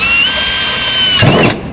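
A power drill runs continuously at a steady high whine, boring into metal during a Mopar electronic ignition conversion on a Barracuda, then winds down abruptly near the end.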